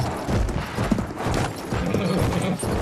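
Horse hooves galloping in the Battlefield 1 video game, a dense, continuous clip-clop drumming loud and close under a busy wash of battle noise.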